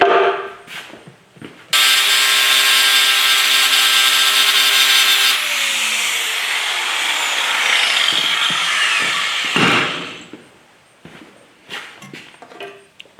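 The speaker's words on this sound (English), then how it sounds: "then you would carefully feather that tack out with the cutting wheel" A cutting wheel grinds down a 6010 weld tack on thin metal in the field, starting abruptly as a loud, steady high-pitched whine for about eight seconds, then spinning down and stopping, with a few faint clicks before and after.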